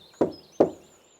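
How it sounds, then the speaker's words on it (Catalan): Two soft knocks on a tiny wooden door, evenly spaced and close, each a short dull thud fading quickly, with no voices. "així que va trucar molt fluixet"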